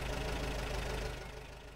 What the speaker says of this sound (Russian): Да, УАЗовский звук двигателя.